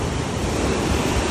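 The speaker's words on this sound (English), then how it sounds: "look at the wonderful ocean" Ocean waves break on a Liberian shoreline in a constant loud roar of surf mixed with wind buffeting the microphone.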